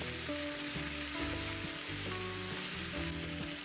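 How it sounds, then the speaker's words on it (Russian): Steady sizzling of minced meat and vegetables frying in a pan, a continuous crackling hiss with faint scraping from stirring with a spatula, close and moderately loud. "С помощью лопаточки разделяю фарш на более мелкие фрагменты и перемешиваю его таким образом с овощами."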